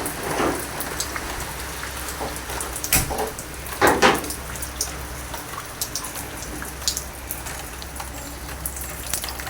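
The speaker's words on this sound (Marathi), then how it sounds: "हे बघा पाऊस येतोय" Steady rain pours down outdoors near potted plants, a dense continuous hiss of drops striking surfaces, with a few louder splashes and knocks standing out nearby.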